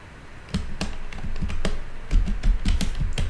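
Typing on a computer keyboard, a quick run of distinct close key taps that grows denser toward the end.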